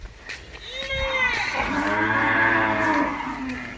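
Cattle mooing on a cow farm, a long drawn-out low moo swelling and fading, close and loud over faint background farm noise.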